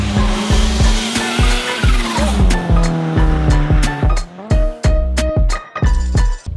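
A Mitsubishi Eclipse GSX driven hard, engine revving through rising and falling pitches with a rhythmic chopping pulse as tires squeal and skid, loud and close throughout.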